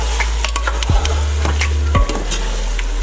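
Ground spinach being stirred into a thick beef and dal mash in a pot, with heavy scraping and thudding strokes over a low, steady simmer.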